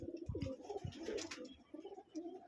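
Racer pigeons in a pigeon loft coo in low, rolling calls, with several birds overlapping close by and a brief flutter-like burst near the start.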